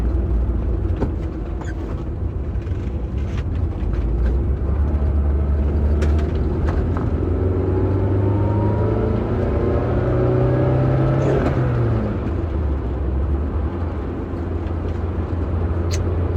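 Car driving in second gear, a continuous loud engine drone that climbs in pitch as it accelerates, peaks, then drops back and settles, heard from inside the cabin with no talk.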